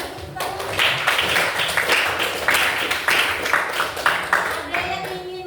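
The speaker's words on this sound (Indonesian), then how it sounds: "Beri tepuk tangan." Classroom applause from a group of students: continuous brisk clapping with dense overlapping claps throughout, fairly loud and close, a few voices mixed in.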